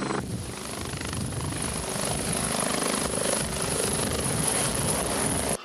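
A rescue helicopter transporting an injured man near Snina, Slovakia, thuds loudly and steadily with rapid rotor chop and a high turbine whine, continuous and close for the whole stretch before cutting off abruptly.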